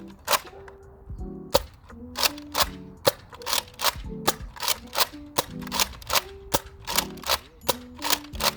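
Nerf Elite Rampage blaster firing foam darts, a steady series of sharp snapping shots roughly every half second, each with a brief mechanical clack, fairly close and without voices.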